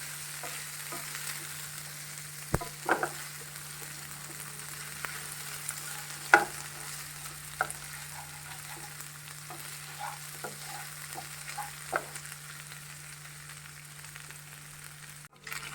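Prawn chilly fry ingredients sauté in a pan, giving a faint, steady sizzle broken by scattered clicks and scrapes of stirring, heard alone without talk.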